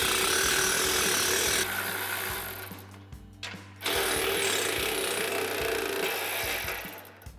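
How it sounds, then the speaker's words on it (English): Ratchet wrench with a 13 mm socket loosening exhaust hanger nuts underneath a 2017-2022 Ford F-250, a steady ratcheting clatter with a brief pause midway, close and fairly loud against background hum. "take a 13 millimeter socket and remove those two nuts"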